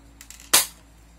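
An airsoft gun, cocked and then fired, gives one sharp, close crack that decays quickly, with faint light clicks just before it in an otherwise quiet room.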